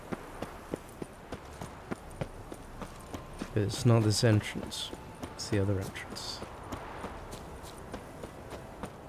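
Horse hooves clip-clop at a steady walking rhythm in The Witcher 3, a regular series of soft, close thuds beneath someone talking.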